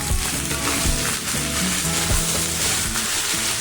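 Potatoes and panch phoron sizzle loudly in hot oil for a vegetarian paneer curry, a constant crackling hiss with soft clinks from stirring.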